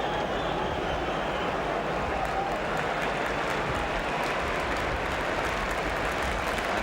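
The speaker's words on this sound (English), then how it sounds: "And Samuels, having retrieved that ball for Swindon, getting a round of applause as he does so" A stadium crowd at the 1969 League Cup Final between Arsenal and Swindon Town claps steadily for a player, a dense, continuous roar of applause with no pauses.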